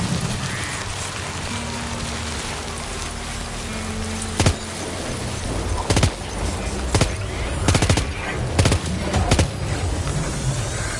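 Gunfire in Death Stranding 2 arrives as a series of sharp, loud shots and short bursts over a constant rain-like hiss, spaced irregularly across the second half.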